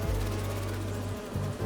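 A close, steady insect drone of bees buzzing in the video game Spider-Man 2, a loud continuous hum with a brief dip before picking back up, no speech.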